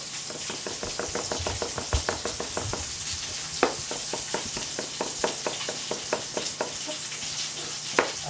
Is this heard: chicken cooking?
yes